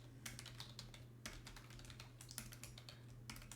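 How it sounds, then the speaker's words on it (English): Faint, steady typing on a computer keyboard, with quick irregular keystrokes in short bursts and brief pauses over a low constant hum. "Ooh, typing."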